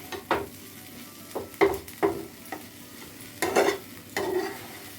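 Okra sizzles softly in hot oil with masala while a spoon stirs and scrapes the pan in several short, uneven bursts.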